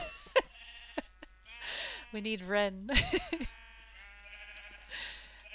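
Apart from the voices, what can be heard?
sheep bleating in video game Minecraft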